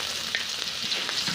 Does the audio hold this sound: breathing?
no